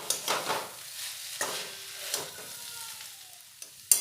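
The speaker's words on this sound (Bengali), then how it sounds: "এবারে খুব ভালোভাবে নাড়াচাড়া করে মিশিয়ে নেব" Chicken chowmein with red chilli sauce and chilli flakes being stirred in a pan, with scraping utensil strokes and a soft sizzle recurring every second or so, close up and without any talking.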